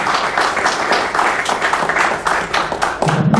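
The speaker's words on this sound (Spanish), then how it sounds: "Solicito pues un aplauso para estas personalidades" An audience at an academic session on human rights in Mexico claps for the invited guests, a dense, steady burst of applause from many hands that continues evenly and starts to thin out at the end.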